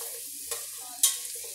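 Bacon lentil soup ingredients stirred in a pot, heard as two brief scraping swishes with a faint sizzle underneath, fairly quiet and close.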